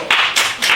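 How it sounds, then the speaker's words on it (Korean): Close hand claps from an audience at an indoor memorial concert come as a few quick, bright bursts in under a second. "그래도 박수 한번 쳐주세요"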